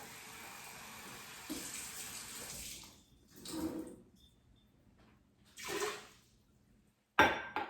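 Water pours in several short bursts into an Instant Pot with brown rice, splashing and trickling with quiet pauses between, ending with a sharp clink.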